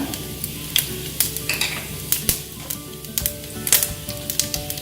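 Cumin seeds crackle and sizzle in hot oil for a tempering, a close, busy hiss broken by frequent sharp pops and spoon scrapes against the pan, with no talking.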